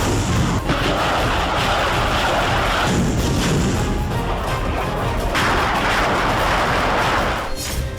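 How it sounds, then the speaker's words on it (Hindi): A Russian warship launches Kalibr missiles, loud sustained roaring blasts and rushing exhaust noise filling the air with several surging bursts in succession. "ये रूस का थंडरिंग युद्धपोत है, जिससे रूसी सेना कैलिबर मिसाइलें दाग रही है।"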